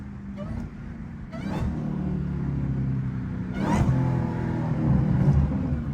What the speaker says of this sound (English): Woo! This baby moving.